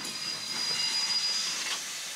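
A cartoon train rolls along a railway with a steady hissing, rattling rumble and faint wheel squeal, close and continuous for the whole stretch, with no talking.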